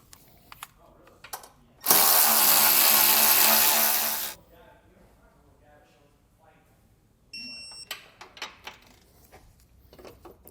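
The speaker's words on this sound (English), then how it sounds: "we're going to run these in and torque them to the specs that are in our installation manual" On a 2022 Chevrolet Equinox, a power tool runs base plate bolts in with one long, loud whir. Shorter clicks, ratchet noises and taps follow as the bolts are torqued, with speech at times.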